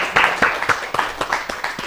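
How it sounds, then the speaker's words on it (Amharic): Studio audience at an Ethiopian children's TV quiz show claps in a steady, fairly sparse rhythm, each sharp hand clap distinct and close, with no voices over it. "አጨብጭቡለት"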